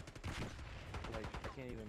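Rapid gunfire from a gun in a Call of Duty video game, with a quick series of close, punchy shots mixed with game sounds and a voice speaking over it.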